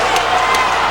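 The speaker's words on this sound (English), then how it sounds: "The crowd urging him on, but Kotey staying on his feet" Spectators at a professional boxing match roar in a dense, loud, continuous wash of cheering and shouting that fills the arena.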